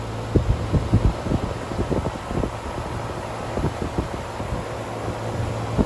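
A repaired air-conditioner condenser fan motor runs with a steady low hum and whooshing airflow, broken by soft, irregular thumps, close and continuous with no voices.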